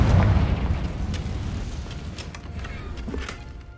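In the Hogwarts Legacy video game, a Confringo spell detonates in a deep, rumbling fiery blast that decays over a few seconds, with small crackling pops through the tail and no talking.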